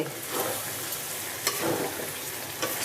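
Spice paste sizzles and fries in a kadai, a dense continuous hiss with occasional scraping stirs, close and steady, with no talking.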